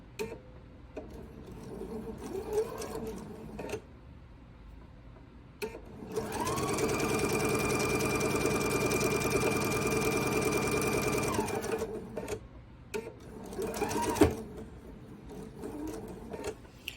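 Sewing machine chain piecing a quilt block, one sustained steady run of stitching in the middle, close and clear, with quieter handling noises and faint movement before and after.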